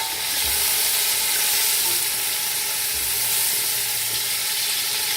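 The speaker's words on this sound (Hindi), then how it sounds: "इसे भी साथ ही भूनेंगे प्याज़ों के" Mutton frying with onions in a pan over a medium flame for dal gosht, a steady close sizzle that runs unbroken with no talk.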